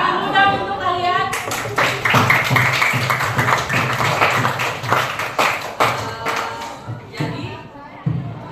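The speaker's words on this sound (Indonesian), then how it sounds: "Tepuk tangan muda untuk kalian." Classroom group clapping in loud, fairly rhythmic applause, with a speaking voice over the claps at the start.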